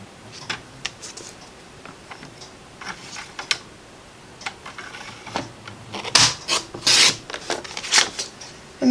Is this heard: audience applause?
no